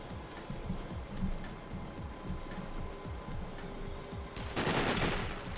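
Rapid bursts of gunfire from the video game Sniper: Ghost Warrior rattle on continuously at moderate level, ending in a brief louder blast near the end.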